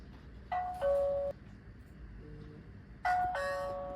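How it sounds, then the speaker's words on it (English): A REHENT RH-TPD10-W Tuya smart WiFi video doorbell chime sounds two ding-dong tone pairs a few seconds apart, clear and close, with a faint softer tone between them and no talk. "So when we press the doorbell,"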